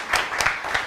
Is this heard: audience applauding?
yes